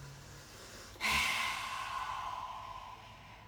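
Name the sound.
deep breathing during qigong exercise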